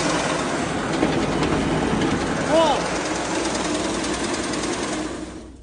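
A motor-driven grain mill for rice and sorghum drones loudly and steadily with a fast rhythmic clatter, while someone speaks briefly over it before the noise begins to fade at the end.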